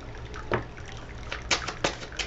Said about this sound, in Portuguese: Que eu acho que tá espirrando a água da fonte.